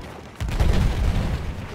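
An explosion in the Battlefield 1 video game booms out as a deep, rumbling blast that rises suddenly and rolls on heavily for over a second, fairly loud.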